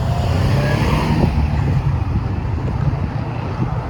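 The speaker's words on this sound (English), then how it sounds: "is it my imagination, or is the street noisier than usual today?" Busy traffic rolls along Dundas Street West in Toronto, a dense, continuous roar of passing cars with a gusty, windy wash close by.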